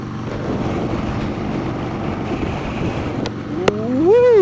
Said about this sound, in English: That is cold wind.